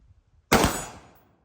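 A single AR-15 rifle shot fired at a hog during a 100-yard hog hunt: one sudden loud crack that decays over about half a second, with near silence before it.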